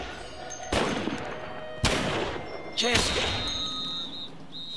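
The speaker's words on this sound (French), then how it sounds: "j'ai lancé une grenade" A grenade explodes in The Saboteur video game: three sharp broadband blasts about a second apart, each decaying into rumble, with game ambience and a faint tone afterward.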